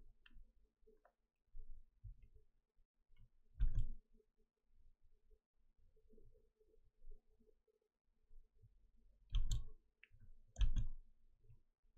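Sparse, quiet mouse clicks in a quiet room, a handful of short sharp taps spaced irregularly with long pauses between, the last few grouped close together, no voices.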